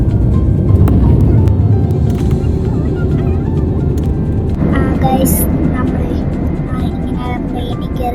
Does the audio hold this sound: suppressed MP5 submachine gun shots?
no